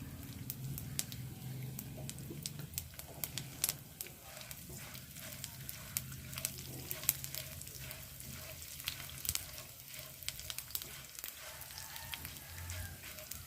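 Cumin seeds and dried red chillies frying in hot oil for a bottle gourd chutney, giving a steady soft sizzle with scattered crackles and pops throughout, fairly quiet and close.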